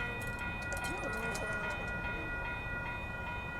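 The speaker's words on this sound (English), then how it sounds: "here comes Amtrak Capital Corridor Train 528" Amtrak Capital Corridor train 528 passing the Fruitvale Avenue grade crossing in Oakland, a steady rumble of rolling wagons with rhythmic clacking and crossing bell tones, heard at a moderate distance.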